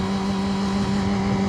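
A steady motorcycle engine with an unidentified fault idling close by, a constant low droning hum with no change in pitch.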